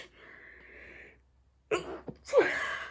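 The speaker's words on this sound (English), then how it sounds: "I'm gonna sneeze" A single sharp sneeze, close and loud, preceded by a quiet faint hum and followed by a brief exhale.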